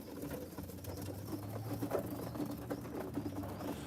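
Birmingham Roller pigeons coo softly in a loft after feeding, low murmuring calls repeating under a faint steady background hum, with some light patter and no talk.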